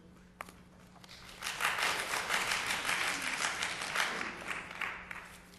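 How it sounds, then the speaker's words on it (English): An audience at the Elmhurst council meeting breaks into applause, a brief sharp clap first, then a fairly faint, steady patter of many hands clapping for a few seconds before fading. "I would ask that we refrain from applause per each and every issue"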